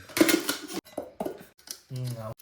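Camping bowls and folding cutlery from a camping set being handled, with short clinks and a brief ringing clatter of metal between bursts of people talking.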